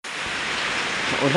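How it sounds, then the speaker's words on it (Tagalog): Steady rain falls through a rainy morning, a dense even hiss filling the whole stretch at a constant level, with a faint tonal sound rising near the end. "Maulan."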